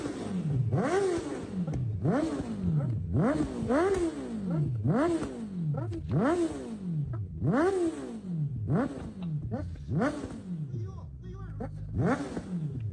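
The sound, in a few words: QJ Motors motorcycle original exhaust revving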